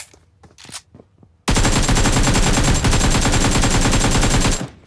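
Sustained rapid automatic gunfire in PUBG Mobile, loud and continuous for several seconds after a few quieter sounds, then stopping abruptly.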